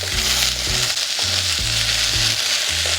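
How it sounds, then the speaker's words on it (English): Garlic frying and sizzling in a pan while being stirred for nettle soup, a loud steady crackle with rhythmic scraping knocks of the stirring, no voices. "literally give the garlic a bit of a stir around"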